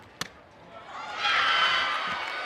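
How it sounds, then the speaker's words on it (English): A sharp bat or ball crack opens, then a home softball crowd and dugout swell into cheering that holds for over a second at moderate volume, a little distant. "you can hear the dugout, you can hear the crowd a little bit there"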